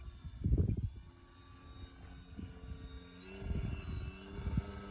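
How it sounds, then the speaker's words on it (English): Small model airplane making a slow flyby on its wing alone without flaps, in a slight headwind: a faint, steady motor drone passes at a distance, with a few soft thumps and gusts of wind noise over it. "I'm gonna try to do some slow flybys here without flaps."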